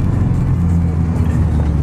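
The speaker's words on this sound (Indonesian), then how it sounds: "Ada mobil." A car drives past on a street in Senayan, a steady close engine rumble heard from inside a moving Volkswagen Golf R convertible, with no talk.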